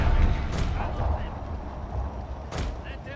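Shrapnel-shot artillery fires in the Fall of the Samurai strategy game as two booming blasts over a rumbling battlefield din, with a voice speaking through it.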